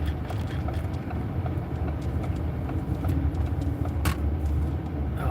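A car rolling slowly along a rough road while surveying storm damage, with a steady low rumble and rattling bumps throughout, loud and continuous, with no talking.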